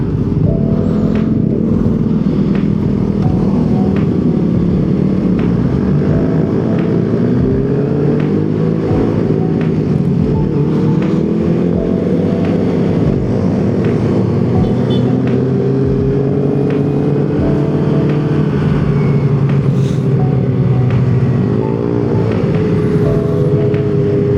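A motorcycle engine drones steadily while riding along a road, its pitch rising and falling with throttle changes, loud and close over continuous wind and road noise, with no voices heard.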